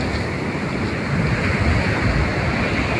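Sea waves wash over feet at the beach edge, a loud continuous surging rush mixed with wind buffeting the microphone, and no voices.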